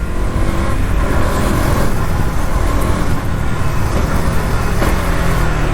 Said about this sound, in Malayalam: You gotta love this motorcycle, man.